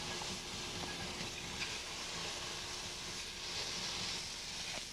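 Jumbo scallops cook in a hot pan, giving a quiet, steady sizzling hiss that runs through without a break.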